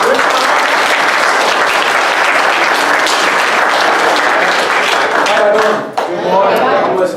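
Audience applause for Quentin Ott at a Labor of Love gathering, loud and sustained dense clapping from a crowd that runs nearly the whole time, dipping briefly near the end before continuing.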